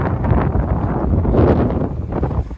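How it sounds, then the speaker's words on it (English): Strong gusty seaside wind buffeting the microphone outdoors in Palermo, a rough low rumble that swells and fades, with no voices. "It's nice and windy here, so I'm a bit cooler"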